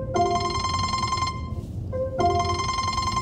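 An incoming-call ringtone on a phone plays two electronic ringing bursts separated by a short gap, loud and close, with no talk over it.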